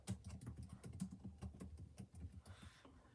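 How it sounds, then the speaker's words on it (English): Quick, uneven keystrokes on a computer keyboard as label text is typed, a dense run of close, soft clicks that stops near the end, with no talking. "I am going to type the text that I want on my label."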